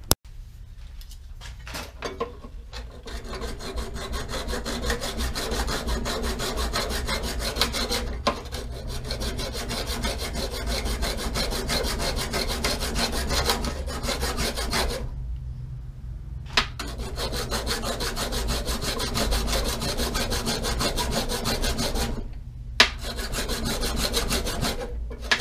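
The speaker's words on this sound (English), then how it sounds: "I'll go ahead and take the hacksaw and cut her off there" A hacksaw cutting through a metal bracket for a CB radio mount on a 1974 GMC RV, with steady rhythmic rasping strokes running close and loud for about twenty-five seconds, broken by two short pauses.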